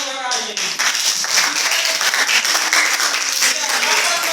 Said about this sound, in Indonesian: tepuk tangan untuk kakak ini